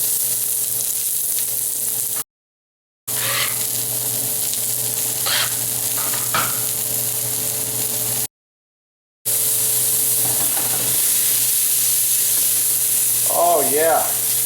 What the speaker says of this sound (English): I'm putting 2 ounces or less of clarified butter. Starting with my onions and garlic together.